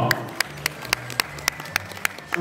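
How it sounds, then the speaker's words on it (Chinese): Wedding guests applauding the groom at a Chinese wedding, a series of sharp evenly spaced claps close by, bright and crisp against a quiet room murmur. "来，掌声再次走一遍，好不好？"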